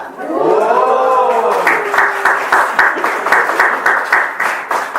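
Audience applause at an event, a close burst of clapping that starts under a speaking voice and then continues on its own to the end.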